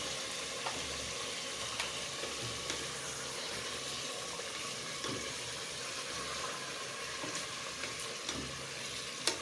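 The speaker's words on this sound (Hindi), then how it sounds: "ये से मैंने 5 से 7 मिनट फ्राई कर लिया है" Steady, soft sizzling of ginger and garlic frying in a pan, a constant crackling hiss with occasional faint pops and no speech.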